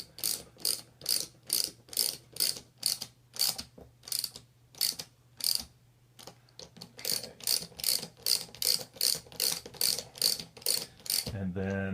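A ratchet tightening nuts on a Pearson pump seal, producing crisp rhythmic clicking in quick regular strokes with one short pause, close and clear, ending in a brief clunk.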